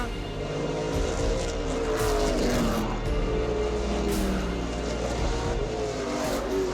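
Race cars brake into a corner on a circuit, several engines overlapping with pitch dropping and rising through the turn, loud and continuous with no talking.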